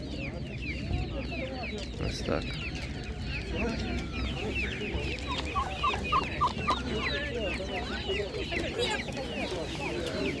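Turkeys and other poultry at a Ukrainian animal market cluck and chatter in a dense, overlapping chorus, with a quick run of sharper repeated calls midway, while people talk nearby.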